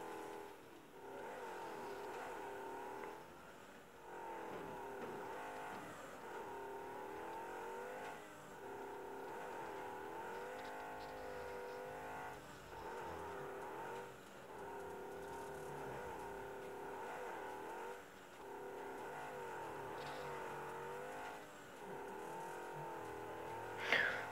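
Video-game car engine drifting around a track, a steady loud droning hum whose pitch sweeps up and down in waves as the car slides through turns, continuing throughout with a brief sharp burst near the end.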